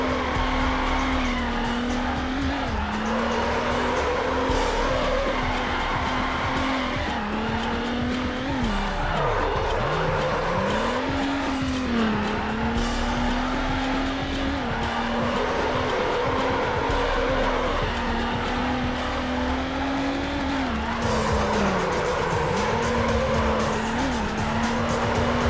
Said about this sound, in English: You have to like kind of really force the handbrake with this thing to get it to slide